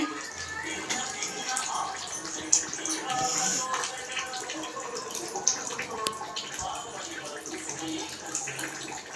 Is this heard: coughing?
no